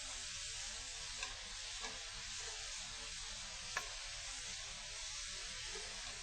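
Marinated meat sizzles steadily in a hot pan with a broad, even hiss, broken by a few faint clicks and taps as it is flipped, with no voices.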